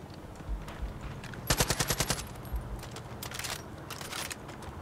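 Bursts of automatic gunfire from a weapon in Far Cry 5, with a rapid volley in the middle followed by shorter scattered rounds, sharp and close against faint game background noise.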